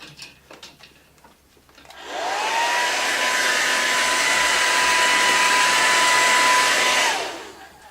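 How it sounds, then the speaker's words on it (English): A hair dryer switches on and blows steadily at close range with a loud, even whoosh and whine for several seconds, then cuts off. "I wonder if a good old-fashioned blow dryer would help."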